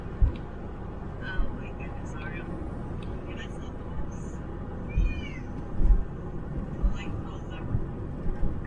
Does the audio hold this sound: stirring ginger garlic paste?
no